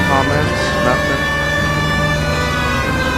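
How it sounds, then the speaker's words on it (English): A police car siren wails in the 1940s crime game L.A. Noire, a loud sustained tone over heavy engine and road rumble, running continuously with no clear pause. "Even though the people get out of the way for the siren, it's still not worth it being so annoying."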